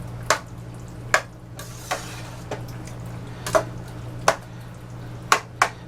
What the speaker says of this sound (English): The main reason for letting it simmer is to get all them good juices out of the onions and the peppers and the